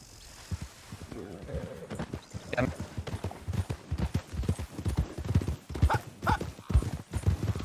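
Steady hoof clops from a horse in a Red Dead game near Blackwater, a quick rhythmic clatter running throughout with a voice talking over it.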